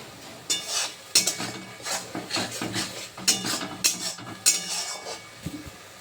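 Chicken cooks in mustard oil in a pan while a spatula stirs it, making a run of sharp metallic clinks and scrapes at an uneven rhythm, close up with no talking.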